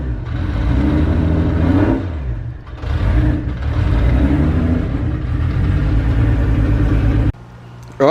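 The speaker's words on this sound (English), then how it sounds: "it's running, but it's misfiring really bad" A newly installed car engine runs with a bad misfire, loud and close, its uneven rumbling idle surging and dipping, with brief revs before cutting off near the end.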